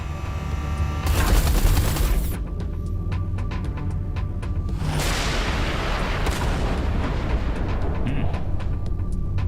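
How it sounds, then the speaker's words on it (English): Artillery fire in the Everspace 2 space game, heavy booming blasts with crackling bursts, one loud barrage early and another a few seconds later, over a continuous low rumble. "Watch out. The artillery."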